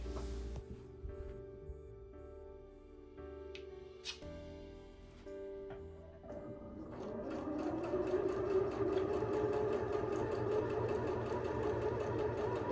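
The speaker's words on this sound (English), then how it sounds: "I'm going to take it to the machine and sew it." A sewing machine stitching quilt pillow fabric, starting with a few faint clicks and handling noises, then settling into a steady, rapid mechanical whir close by for the last several seconds, with no talking.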